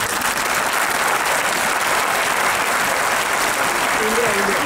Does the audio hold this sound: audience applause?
yes